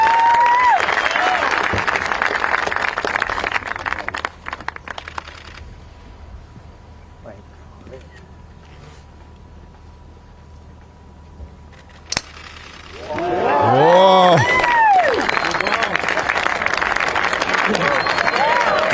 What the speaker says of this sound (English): you can hear the crowd reacting to Donald Trump's amazing shot